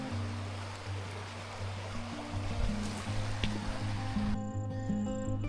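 A river runs beside a campsite on the Eastern Arthurs traverse, giving a steady, close wash of flowing water that continues unbroken throughout, with a low hum layered underneath.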